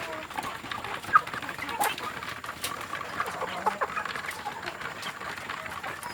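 Faint, scattered chirps and clucks from young native Indonesian kampung chicks being raised, low and a little distant, over a constant background hiss.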